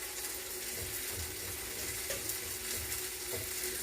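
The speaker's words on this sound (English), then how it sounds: "So we're just going to let those sizzle and cook for a while." Crab chimichanga filling sizzles steadily in a hot pan, a continuous close frying hiss with small pops and stirring, no voices.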